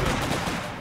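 Rapid machine gun fire in the World War II strategy game Company of Heroes 2, a dense, continuous burst of overlapping shots lasting under a second, loud and close with no voices over it.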